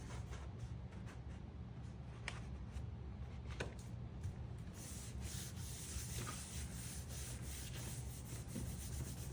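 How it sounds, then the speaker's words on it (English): Paper is rubbed by hand onto a gel printing plate in a studio, giving a soft, continuous scratchy friction with faint repeated strokes, quiet and close, with no talk. "Really, I'm only gonna rub on the part where I want the color to come up."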